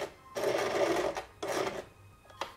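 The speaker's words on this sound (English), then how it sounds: "And now we let it sew and we pull again our pins before we sew over them" Sewing machine stitching a glove with tiny stitches, running in two short bursts of rapid mechanical whirring and clatter separated by pauses, close and fairly quiet, with a brief extra tick near the end.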